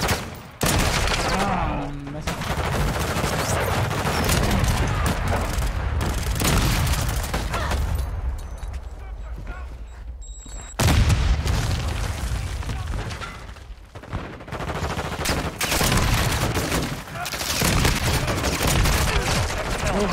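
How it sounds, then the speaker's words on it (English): Heavy gunfire in Modern Warfare 2 on max graphics: dense, loud bursts of automatic fire and booming shots nearly nonstop, with brief lulls and scattered impacts, a chaotic battlefield din. "how many people are shooting at me?"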